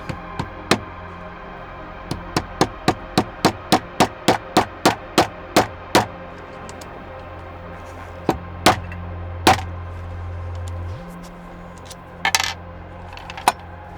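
Hammer tapping a Bantam NP3 TT-AU-B Neutrik connector into place: a quick run of about fifteen sharp, evenly spaced metallic taps, followed by a few scattered louder strikes, close and alone.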